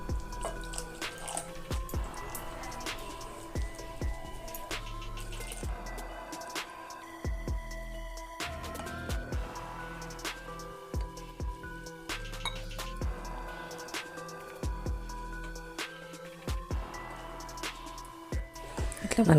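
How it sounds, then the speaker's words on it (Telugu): Water poured little by little into an oats and curd batter while it is mixed in a bowl for oats idli, giving wet drips, squelches and spoon clinks, with soft background music. "దీంట్లో కొద్దిగా నీళ్ళు పోసుకుంటూ కలుపుకుందాము."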